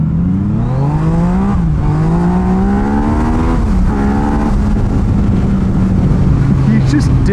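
A modified Yamaha MT-09 motorcycle pulls hard, its engine note rising steadily through the revs in a loud, close, continuous drone with small dips between gears.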